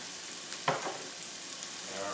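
Garlic cooking in a pan for pasta with asparagus and scallops gives a faint, steady sizzle, with one quick sharp clatter or stir near the start.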